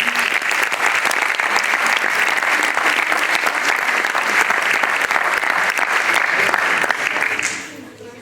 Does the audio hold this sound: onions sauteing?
no